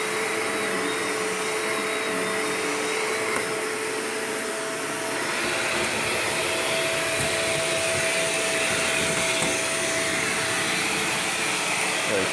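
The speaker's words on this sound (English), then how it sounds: "time to just vacuum up this mess here." A Shark Rotator vacuum cleaner runs steadily on a kitchen floor strewn with pancake powder, a loud constant motor whine and airflow roar with a faint tonal hum, continuous throughout.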